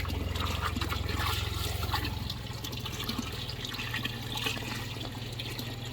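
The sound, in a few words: pond water being pumped into a tilapia pond filter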